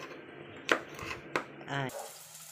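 A knife chops Baguio beans on a board in a home kitchen, giving a few sharp, separate cuts with a brief voice between them.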